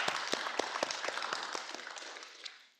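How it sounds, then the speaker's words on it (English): Applause from an audience at a symposium for the National Missing and Murdered Indigenous Peoples Day of Awareness, with a few distinct claps over a dense wash that gradually fades out toward the end. "Just big round of applause for her."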